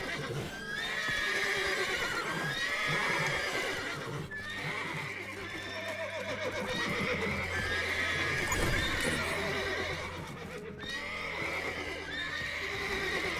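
Horses neigh and whinny repeatedly in the video game The Witcher 3: Wild Hunt, loud and close, with hooves clopping and a busy rumble underneath.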